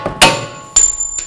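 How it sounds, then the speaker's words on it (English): Two sharp metallic hammer taps on a strut bolt of a 2007-16 GMC Acadia, close and loud, each ringing briefly with a bright metallic tone. "just use a hammer, and give it a tap."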